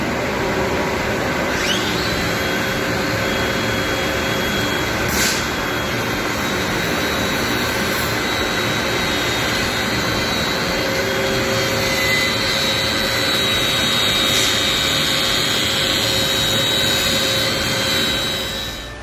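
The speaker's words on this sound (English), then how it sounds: "I'm going to come in with the grinder and I'm going to get this little lip right inside here" A flat grinder working a small lip on metal along a production sill line gives off a loud, continuous, even whine and rush that holds steady throughout, with no talking.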